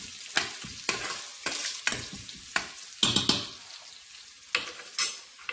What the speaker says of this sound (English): So you can hear the sizzling sound.